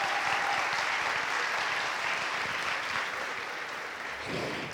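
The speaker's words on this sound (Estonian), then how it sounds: "Aplaus Liina Kersnale." Audience applause for Liina Kersna at a school PlayBox show at Kose Gümnaasium, a steady dense clapping that fills the whole stretch and tails off slightly near the end.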